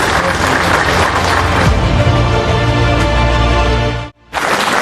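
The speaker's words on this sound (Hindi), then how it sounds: "तालियों में कोई कमी नहीं चाहिए, प्लीज" Dense, loud, sustained clapping from a crowd at a NEET 2022 result victory celebration held by a career institute in Rajbagh, continuing steadily before breaking off briefly and then resuming.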